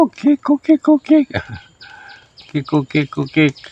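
Chickens cluck at a temple in Lampang, Thailand, settling into a new natural home. A quick run of short, evenly spaced clucks comes first, then a brief pause, then another fast burst, all loud and close.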